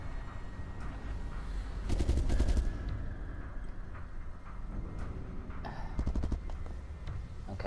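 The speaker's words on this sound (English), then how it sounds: "those bullets should have killed me" Bursts of rapid gunfire in the survival horror game Resident Evil Revelations 2, two volleys of quick repeated shots over a steady low rumble of game ambience, with no talk.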